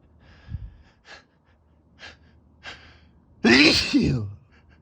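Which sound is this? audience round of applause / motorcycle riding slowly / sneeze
sneeze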